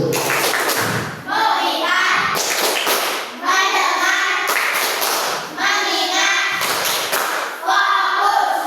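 Schoolchildren in a classroom perform the 'tepuk fokus' clapping routine, chanting together in rhythmic bursts with sharp claps and thumps, repeated in several phrases separated by brief pauses.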